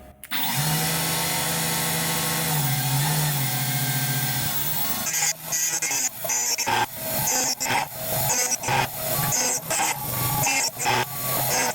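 A machine cuts aluminum in a garage workshop, a loud sustained whine for several seconds, then choppy repeated bursts of grinding and scraping, with no talk.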